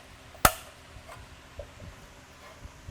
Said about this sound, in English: Module retainer snaps back into place.